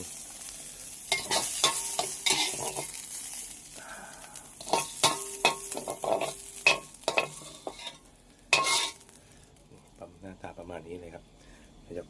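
Cicada meat is stir-fried in a pan, with sizzling and frying punctuated by the scrape and clatter of a utensil stirring. A voice talks over the cooking.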